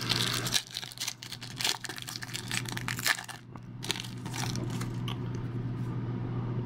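A 2002-03 Upper Deck Honor Roll basketball trading card pack is torn open by hand, with close crinkling and tearing of foil wrapper in bursts, then quieter rustling with no talk.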